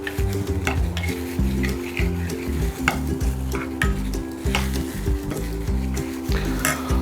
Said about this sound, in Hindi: अब इनमें इसको हम थोड़ा हिला देते हैं ताकि अच्छी तरह मिक्स हो जाए।